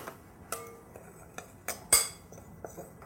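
Hazelnut powder, flour and sugar are mixed together in a bowl, heard as a scattering of light clinks and taps of a utensil against the dish, with one sharper knock near the middle and quiet gaps between.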